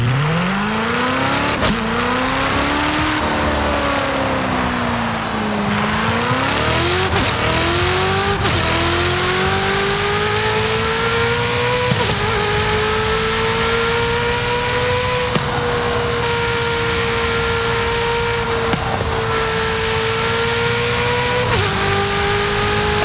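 A new Ferrari's engine in a racing video game revs loud and close, rising and falling through repeated gear shifts with sharp upshift cuts, a sustained high-pitched snarl that runs alone throughout.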